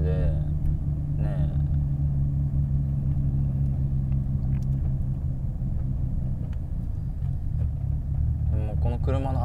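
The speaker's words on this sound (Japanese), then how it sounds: "この車のアイドリングがね、" A car with an irregular, faulty idle sits in a traffic jam on the Tomei Expressway near Ebina, its low steady engine rumble running throughout beneath someone talking inside the vehicle.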